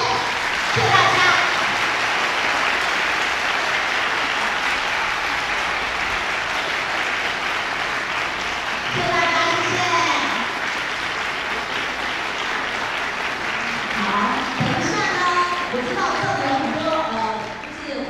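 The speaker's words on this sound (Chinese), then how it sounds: "我们再给台上的十位老师、指挥老师，还有演出的团员们一点热情的掌声" A concert audience applauds the ten performers, the conductor and the members of a flute ensemble, sustained clapping that swells at moments while an announcer speaks over it.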